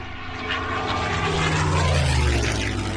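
World War II propeller fighters, Focke-Wulf 190s, Me-109s and P-51 Mustangs, roar through a swirling dogfight, a loud continuous drone of piston engines with shifting pitch as planes pass overhead.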